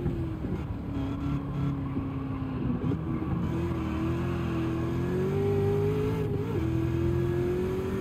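Race car engines in Gran Turismo 7, including a Dodge Viper and a Camaro, drone steadily at sustained high revs with gradual pitch shifts, loud and continuous, with no talk over them.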